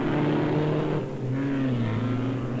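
Race car engines roar together at the start of an auto race, a loud continuous drone with pitch sliding upward as the cars accelerate, no voices over it.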